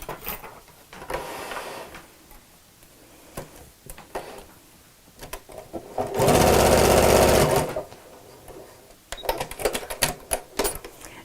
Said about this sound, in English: I'm going to sew just along the edges inside the seam allowance to hold that in place